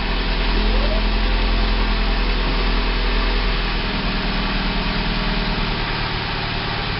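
A Pontiac G5 engine runs after a fuel line replacement, a steady close idle hum and drone that holds even and continuous throughout, with the fuel rail not yet bled.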